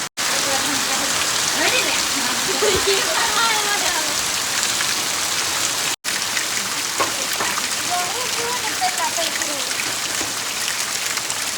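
Steady, heavy rain patters on surfaces close by in a continuous hiss, while a person talks over it.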